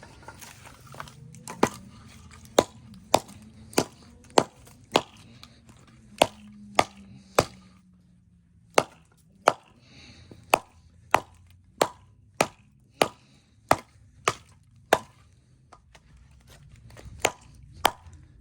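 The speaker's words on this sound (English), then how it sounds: "See how this thing does on doing some chopping" A Schrade SCHF9 knife blade chops into knotty wood with sharp, crisp knocks, about twenty strikes at a steady rhythm with brief pauses between, close and clear.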